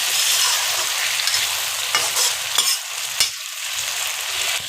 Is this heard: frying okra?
yes